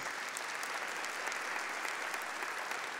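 A church congregation at a Catholic service applauds the reading of Scripture, an even, continuous wash of many hands clapping, moderately distant and fairly quiet throughout.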